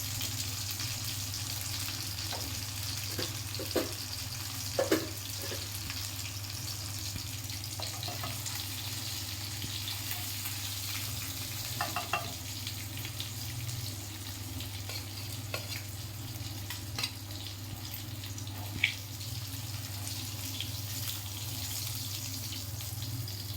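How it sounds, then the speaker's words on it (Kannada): Fish frying in a pan makes a continuous soft sizzle with a low steady hum underneath and occasional small clinks and pops, fairly faint and close, with no voices. "ಫಿಶ್ ಫ್ರೈ ರೆಡಿ ಆಗಿದೆ ಗಾಯ್ಸ್"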